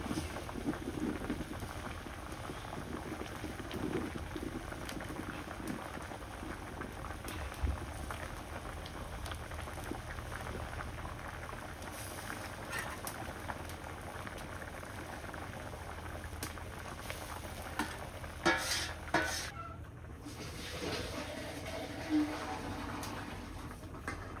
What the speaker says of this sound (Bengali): মাছগুলো দিয়ে দিই।